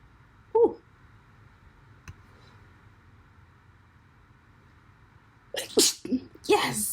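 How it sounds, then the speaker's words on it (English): One sharp, close sneeze erupts after a long stretch of near-silence, preceded by a brief intake of breath, with a few quiet voiced sounds just afterward. "Hold up, I need to sneeze."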